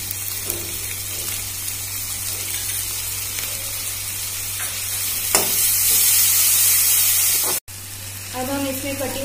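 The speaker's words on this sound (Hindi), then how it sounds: "अब हम इसमें अपना अदरक लहसुन का पेस्ट भी डाल देंगे।" Ginger garlic paste fries in a pan with a continuous sizzle that swells louder about two-thirds through, drops out for a moment, then resumes with faint kitchen clatter.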